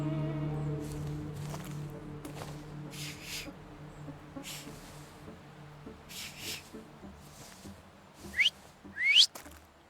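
Whistling in the game The Thaumaturge, short tonal whistle phrases, then two rising sharp whistles near the end, quiet, with faint footsteps and low ambient sound behind.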